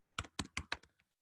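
Five quick keystrokes on a computer keyboard, close and crisp in a quiet room, each a sharp double click, with a softer final tap trailing off.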